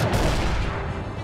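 Artillery pieces firing in the strategy video game Codex of Victory, a dense, continuous rumble of booming blasts that stays loud and full throughout the short stretch, with no voices over it.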